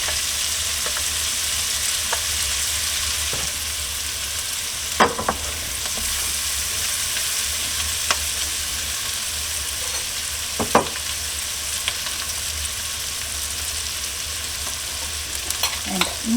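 Garlic frying in olive oil in a pan, a steady moderate sizzle broken by a few sharp spoon taps and scrapes, no voices.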